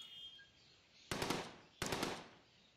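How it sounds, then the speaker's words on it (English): Two loud bursts of rapid automatic gunfire from a WW2 Bunker Simulator video game, each a dense rattling volley about half a second long, the second following shortly after the first, with a quiet stretch beforehand. "We're under fire."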